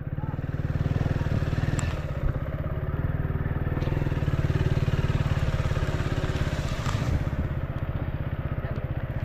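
A motorcycle's engine runs steadily in a parking area, a loud continuous mid-range rumble with a rattling clatter throughout and no pauses.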